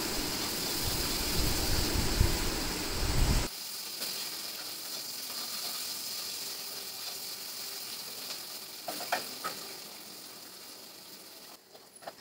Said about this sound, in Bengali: এবার ভালো করে লাল লাল করে ভেজে নিয়ে আমি তুলে রাখবো।